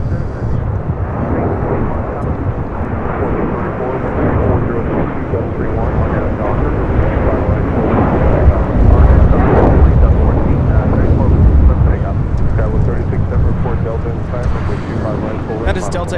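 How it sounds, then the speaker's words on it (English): Delta Airlines Boeing 737-900ER taking off at LAX, a loud continuous jet roar with heavy low rumble that swells around the middle and stays strong throughout, heard up close from the airport. "That is Delta Airlines 811 taking off to Miami on a 737-900 ER."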